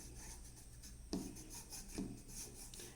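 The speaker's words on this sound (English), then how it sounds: "I'll take some on my finger and I'll start rubbing it over the curved portions, all the raised portions." Soft, close rubbing of wax by fingertip over the raised, curved portions of a vintage ornament frame: a faint, quiet friction with a couple of small scuffing bumps.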